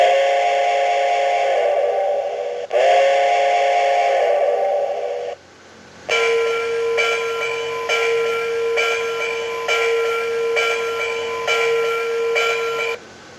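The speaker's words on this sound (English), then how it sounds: "for a non-sound locomotive, this thing actually has a pretty nice whistle and bell" A model Hudson steam locomotive sounds its whistle in two long, loud chordal blasts, then its bell rings in a quick, even series of bright clangs, close and clear with no talking.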